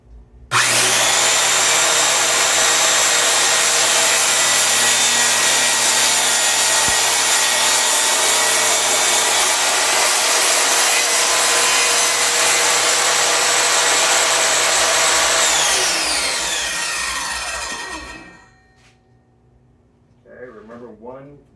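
A DIY table saw fitted with a sled makes its first real cut through wood: a loud, steady saw whine and cutting roar held for about seventeen seconds, then winding down as the blade spins to a stop, with brief talk near the end.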